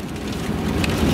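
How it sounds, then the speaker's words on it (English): Hailstones pelt the road and surfaces on Interstate 80 during a spring storm in Nebraska, a dense, steady patter of impacts that grows slightly louder, with no voices. "That's hail."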